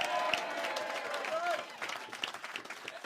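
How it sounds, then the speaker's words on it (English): Audience applause and cheering at a comedy roast battle, moderately loud and continuous, with talk running over it throughout. "Give him a round of applause"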